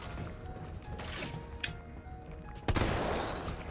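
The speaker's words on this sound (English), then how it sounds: "Good shot, Jill." Gunfire in the video game Resident Evil 3, with a sharp crack near the middle and a heavier burst of shots toward the end over a steady backdrop of game ambience.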